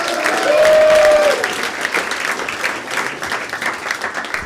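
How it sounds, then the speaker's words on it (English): A comedy club audience applauds loudly and continuously, a dense wash of many hands clapping with some crowd noise, while a host's voice carries briefly over it near the start. "Keep that applause going, ladies and gentlemen"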